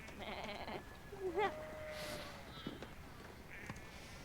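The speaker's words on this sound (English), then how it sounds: "Sheep!" Sheep bleat in a scene from The Last of Us, a few wavering calls at moderate distance, with a voice briefly heard among them and light background ambience.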